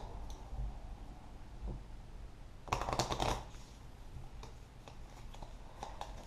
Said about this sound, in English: So this gets shuffled back into my deck.